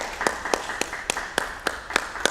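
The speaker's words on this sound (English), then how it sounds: "So I'm going to give you a little round of applause" A lone person claps slowly and evenly, about eight distinct claps in a small, quiet room, during a Sunday sermon.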